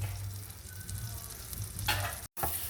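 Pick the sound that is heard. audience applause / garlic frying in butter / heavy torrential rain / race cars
garlic frying in butter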